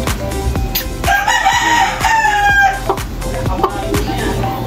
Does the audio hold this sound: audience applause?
no